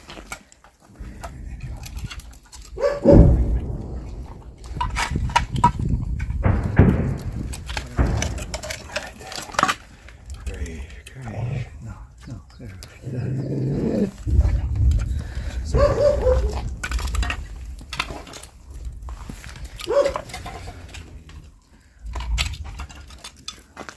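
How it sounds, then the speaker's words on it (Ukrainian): Two guard dogs at a house in war-torn Bakhmut bark and whimper in bursts, fairly close, with some muffled activity between outbursts. "Ці двоє гавкали до півсмерті."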